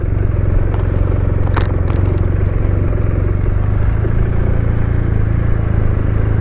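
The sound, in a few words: BMW motorcycle boxer engine running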